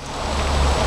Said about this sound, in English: It's nice to have a bit of rain, although it's getting a lot heavier than what it was when I went in.